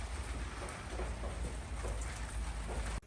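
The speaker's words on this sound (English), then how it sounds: "It's raining." Steady rain falling, a constant hiss of drops with a soft low rumble underneath, close and unbroken until a sudden cut near the end.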